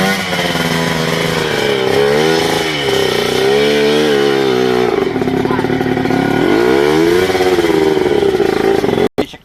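A racing motorcycle engine revs loudly and continuously, pitch rising and falling through repeated accelerations, close up, then cutting off abruptly near the end.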